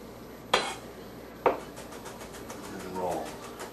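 Two sharp knife chops land on a cutting board through shallot, a second apart, close and crisp, followed by softer scraping; people talk around them.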